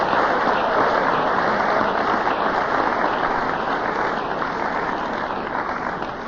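Sustained applause from an audience at an Alcoholics Anonymous speaker meeting in Baton Rouge, many hands clapping in a dense, steady roar that carries evenly and eases slightly toward the end.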